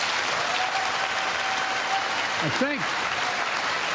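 Steady applause from a large chamber audience at the State of the Union, a dense even clatter of clapping throughout, with a voice briefly speaking over it.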